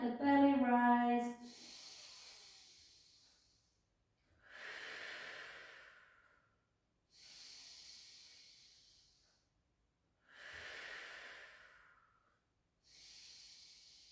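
Slow, deep breaths during a Pilates supine spine stretch in a rehabilitation class: five long, airy breath sounds spaced evenly a few seconds apart, close and soft, with no talking.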